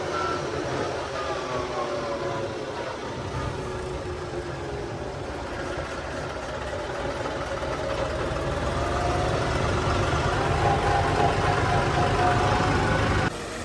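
A John Deere tractor engine runs steadily and fairly loud for the whole stretch, with a constant rumbling drone and no talking.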